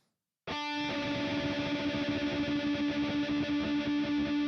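Electric guitar held on a sustained note while being tuned, the strong distorted tone pulsing with a wavering beat throughout after an abrupt start, loud and alone.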